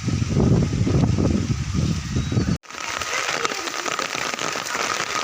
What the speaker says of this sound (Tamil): பாருங்க, ரொம்ப மழை வந்துட்டுருக்கு.